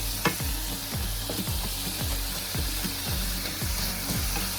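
Chopped red onion, taken frozen from the freezer, fries in a pan for homemade spaghetti, giving a steady close sizzle broken by regular scraping stir strokes roughly every half second, with no voices.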